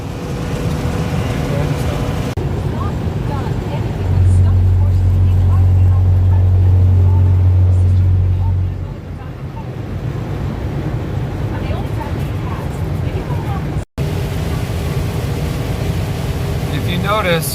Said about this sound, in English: So it is super crazy windy.